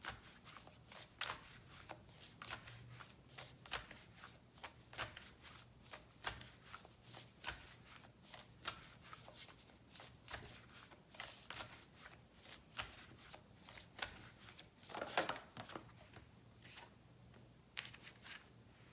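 Tarot cards being shuffled alone in a quiet room, a steady run of soft riffling flutters and papery slaps continuing for the whole stretch, close and fairly quiet.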